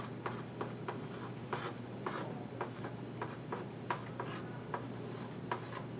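Chalk or marker taps and scratches across a classroom board during a math lesson, a series of short, quiet strokes in an irregular rhythm over a low steady hum.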